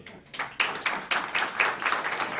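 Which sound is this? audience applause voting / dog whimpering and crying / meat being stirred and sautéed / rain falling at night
audience applause voting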